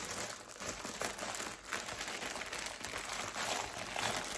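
Plastic packaging around a newly delivered blouse is pulled open, giving continuous soft crinkling and rustling with small crackly bursts, close but fairly quiet, with no talking.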